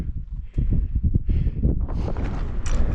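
Strong wind gusts buffet the microphone on a High Sierra mountain summit near Leavitt Peak, low rumbling bursts building and becoming steadier and louder toward the end, close and harsh, with no voice heard.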